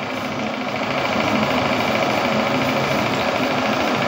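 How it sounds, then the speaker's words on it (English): A small engine on its fourth and final test run chugs steadily at close range, a dense continuous mechanical knocking and vibration that holds level throughout with no voices. "The little engine that could is running."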